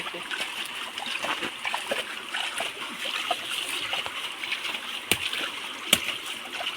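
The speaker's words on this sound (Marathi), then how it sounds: "हे बघा मित्रांनो बघू शकता पाणी उपसतो अजून." Water is scooped and splashed out of a pit during traditional summer eel fishing in Konkan, giving soft, irregular sloshes and trickles with a couple of sharper splashes, fairly faint, with occasional voices.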